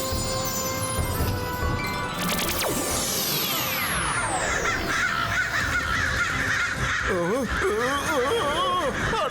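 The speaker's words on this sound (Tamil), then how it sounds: "இந்த காக்கா என்ன ஃபாலோ பண்றதை நிறுத்தவே மாட்டேங்குது." A cartoon crow caws repeatedly and loudly amid cartoon sound effects, including a sweeping whoosh and a warbling tone, while the caws continue throughout.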